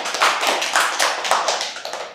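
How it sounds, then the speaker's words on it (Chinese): A brief burst of audience applause in a school setting, with dense, rhythmic hand claps, fairly loud and close. "大家掌声欢迎。"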